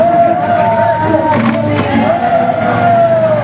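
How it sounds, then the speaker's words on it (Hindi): A loud, dense village crowd gathers for a pot-breaking festival, with steady chatter, shouts and cheering blending into a constant roar, and a sustained musical tone running underneath. "बहुत जोर शोर से भीड़ लगे हुए हमारे गांव में।"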